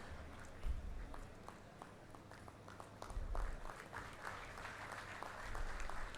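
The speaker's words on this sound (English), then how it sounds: "A girl engineering student, a big round of applause, please" Scattered applause from the audience at a university convocation ceremony for an engineering student, light and fairly distant, with individual claps standing out over a low background rumble.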